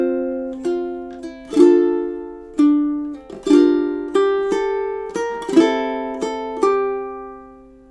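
Ukulele playing two measures of a song, a series of clear plucked and strummed chords ringing out one after another at a slow, steady pace, close and solo with no voice.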